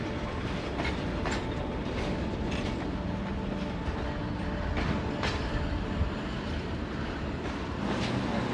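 Australian transcontinental railway train rolling steadily at close range, a continuous broadband rumble with repeated clickety-clack wheel-on-rail impacts and no voices throughout.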